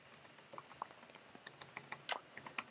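Quiet, close typing on a computer keyboard while entering code, irregular bursts of crisp key clicks.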